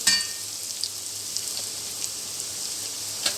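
Ground chilli, coriander and fennel powders sautéing in hot oil over a low flame for cauliflower sukka, giving a steady, soft sizzle and crackle throughout with faint stirring ticks.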